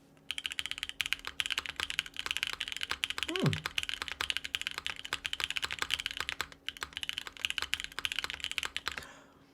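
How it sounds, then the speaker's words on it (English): Rapid, steady typing on a GEM65 gasket-mounted keyboard with lubed Epsilon switches and no foam or mods. The keystrokes are close and crisp, with a brief low vocal sound partway through. "It's a gasket mounted keyboard."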